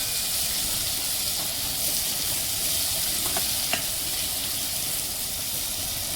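Tomato frying with browned onion in a pan for egg bhurji gives a steady, soft sizzling hiss, with a couple of faint clicks partway through.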